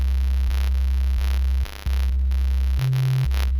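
A low square-wave bass an octave down, stacked with a regular bass line, plays steady sustained notes with a buzzy electronic tone, shifting pitch a few times with brief gaps and no voices.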